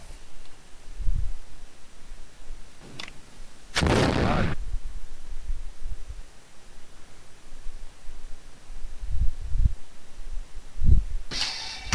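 Black-powder musket volley from a line battle reenactment, one loud broadband blast around the middle with a few fainter scattered shots before and a sharp crack near the end, outdoors.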